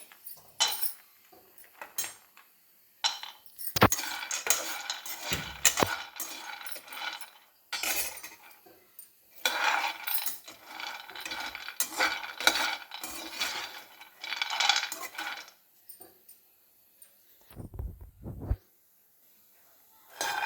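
Almonds are dry-roasted in a pan without ghee, with bursts of clinking and scraping as a spoon stirs them against the metal, irregular and close, separated by near-silent pauses.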